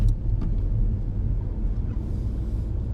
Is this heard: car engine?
yes